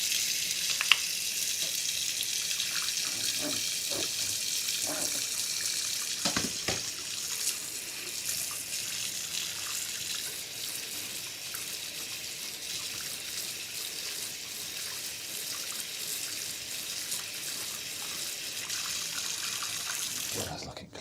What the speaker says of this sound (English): Alright, I'm going to quickly give this brush a quick clean.